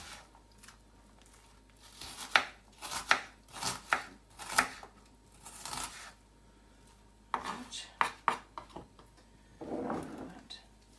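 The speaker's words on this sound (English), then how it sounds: "So I'm just cutting it into little squares." A big onion being chopped into little squares on a cutting board, with close, crisp knife strikes coming in uneven bursts and short pauses between them.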